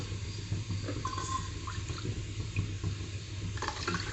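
Two cups of water poured into a pan for wheat flour halwa, a soft steady gurgling fill heard close over a low background hum, with no speech.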